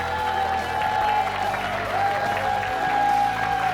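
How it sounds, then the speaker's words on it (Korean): A studio audience applauds steadily to welcome Minister of Oceans and Fisheries Cho Seung-hwan onto a television talk show, with a sustained tone, likely music, running beneath the clapping throughout. "큰 박수로 환영해 주십시오"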